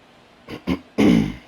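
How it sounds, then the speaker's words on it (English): A close cough: two short throat bursts followed by a longer, harsher hacking cough, alone with no speech. "this cough is just not nice"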